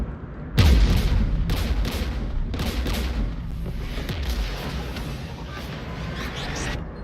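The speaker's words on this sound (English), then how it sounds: "We're taking fire." Gunfire in the Mass Effect 3 video game opens with a heavy boom, then irregular bursts of sharp shots and thuds continue over a rumbling battle bed, loud and close.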